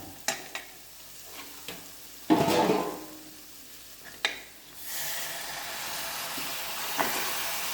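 1.5 kg of meat goes into a pan of sautéed tomatoes for a roast, with a few scattered clatters and scrapes, then a loud burst of sizzle that settles into a steady hissing fry.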